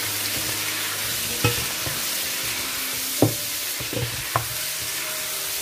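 Braised Cameroonian-style pork fries in a pan with a steady close sizzle. A few sharp scrapes and knocks from stirring break through, and no one speaks.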